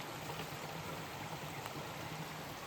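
A stream of water flowing beside a hiking trail on the Appalachian Trail, a faint, steady broadband rush without breaks, heard alone with no talking.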